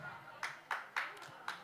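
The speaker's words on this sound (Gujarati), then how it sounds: "તાળીઓ વગાડો" Sharp, separate claps at a gathering after a women's performance at a Mataji event, about five spaced hits with a soft murmur of voices underneath.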